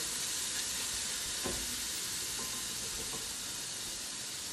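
Vegetables for Italian chicken noodle soup sweating down in a pan, a quiet, even sizzle with a couple of faint stirring scrapes.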